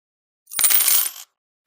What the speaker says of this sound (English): Your change will come out below.